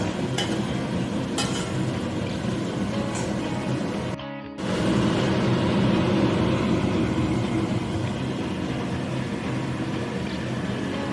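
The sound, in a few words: stirring chitol fish kalia frying in oil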